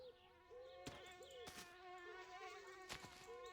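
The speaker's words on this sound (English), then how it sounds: "The mosquito's already back." A mosquito in the video game My Summer Car buzzes loudly and close, a steady whine that swoops up and down in pitch, with a few sharp clicks and thumps breaking through it.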